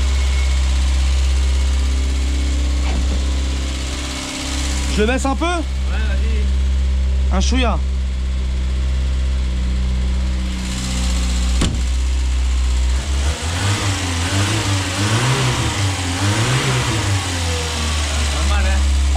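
A car engine idles after carburettor and choke adjustment, then revs up and down with a rising, wavering drone; people talk briefly in French over it.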